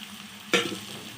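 Greens dropped into vegetables frying with salt and turmeric in a pan: a sudden loud hiss as they land, after which the sizzle settles and fades back to a steady low crackle.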